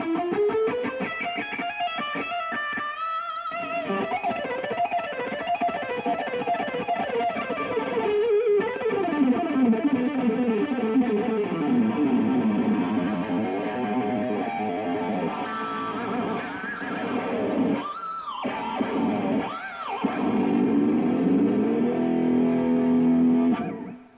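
A guitarist plays a fast electric guitar riff lick, a dense run of sustained, slightly distorted notes cascading up and down, with a few brief pauses and a final held note.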